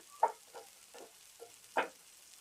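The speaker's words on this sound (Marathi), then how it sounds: "आता बारीक गॅस करायची आणि ह्या परतून घ्यायचा." Spices and Kashmiri red chilli powder are sautéed in a pan on low gas for a vegetable curry: five soft, separate scraping and stirring strokes, faint and close, with quiet pauses between them.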